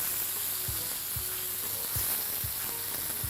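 Onion cooking in oil with garlic ginger paste and Indian five-spice for a potato, aubergine and capsicum curry, hissing continuously up close while a utensil knocks dully about five times at an even pace.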